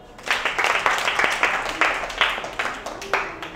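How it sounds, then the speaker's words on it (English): A classroom of children clapping together in a steady rhythmic beat, loud and near, several claps per second all the way through. "Claps."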